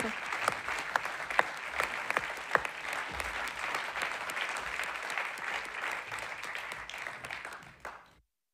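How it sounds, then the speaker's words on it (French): Audience applause at a regional sports awards ceremony, steady crowd clapping with distinct individual claps popping out early, gradually thinning and fading to silence at the end. "On les applaudit."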